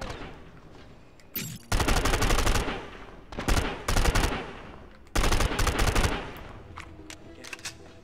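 Repeated bursts of rapid automatic gunfire from a first-person shooter video game, loud and close, coming in three main volleys separated by quieter gaps.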